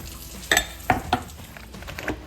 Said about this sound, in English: Then give it a little stir.